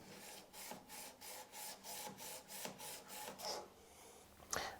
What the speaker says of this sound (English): So my preference would be to use a bench stone